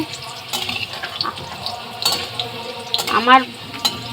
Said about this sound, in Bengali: কত সুন্দর লাল লাল ভাজা হয়েছে